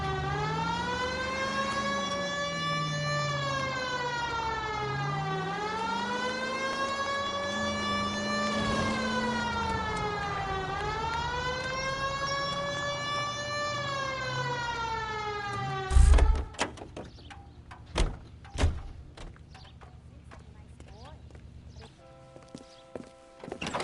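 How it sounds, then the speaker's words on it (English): A loud wailing police car siren in the video game L.A. Noire rises and falls steadily for several cycles, then cuts off into a few sharp knocks and clattering thuds. "Hit the siren."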